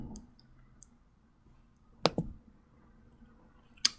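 A computer mouse clicking in a quiet room: two crisp clicks close together midway, then a single click near the end, sharp and near against a low background hum.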